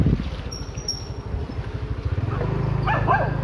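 A dog barks outdoors in a quick run of repeated, fairly close barks and yips that fade into a steady wash of background noise.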